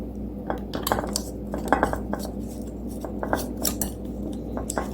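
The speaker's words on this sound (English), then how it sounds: "Let me go ahead and put the lid on it." A lid goes onto a crock of homemade sauerkraut, giving close clinks and clatters of hard ceramic and metal knocking together in short, irregular bursts over a steady low hum.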